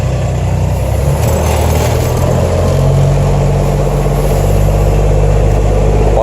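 Motorhome driving along a noisy road surface, a constant low engine drone and rumbling tire noise heard from inside the cabin, steady and loud with no talk.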